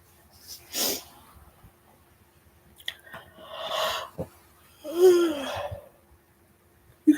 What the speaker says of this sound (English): You can tell it's early because I'm yawning.